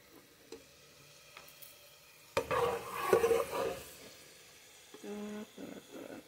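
Garlic and onions frying in a pan while a cream sauce with four cheeses is prepared, with a burst of sizzling and stirring in the middle, quiet kitchen handling before it and a softer frying tone near the end.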